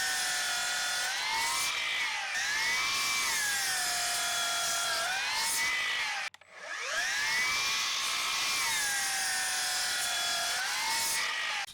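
A Milwaukee M18 Fuel 12-inch cordless miter saw whines at high speed through two cuts, its pitch dipping and rising as the blade bites, with a brief drop to near silence between passes; close and loud, no talking.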